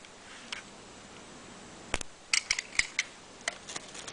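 A blade trimming the edges of a wargaming table board, heard as sparse sharp clicks and snips, a few isolated ones early, then a quick cluster of crisp cuts, close and quiet.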